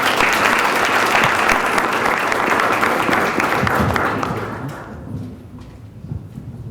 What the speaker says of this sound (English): So please, let's give a round of applause for our distinguished speaker, Mike Bowen.